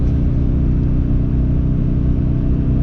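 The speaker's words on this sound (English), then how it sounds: "It just revs and revs and revs and tow haul." A 2004 Chevrolet 2500HD pickup with a 6.0 gas V8 and about 195,000 miles drones at steady high revs while towing a small trailer up mountain grades, a loud continuous engine hum with no pause.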